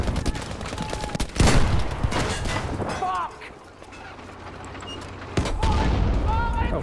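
Gunfire from an enemy tank aimed at the player in a shooter video game, several loud bursts and booms mixed with game noise and voices talking over it.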